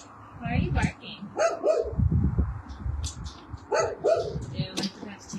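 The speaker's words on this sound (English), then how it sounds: "Why are you barking?" A dog barks in several sharp bursts, close by, with a person talking in between.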